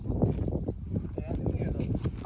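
Hooves of working horses clip-clop in an irregular walking rhythm up close, mixed with low rumbling and voices talking over them.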